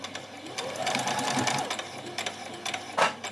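A sewing machine runs a short back stitch on a child's dress, a close, steady mechanical whir with quick needle clatter, stopping and restarting briefly near the end.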